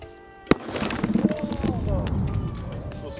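A dry ice bomb bursts inside a cracking watermelon with one sharp, loud bang, followed by a stretch of excited voices talking and reacting.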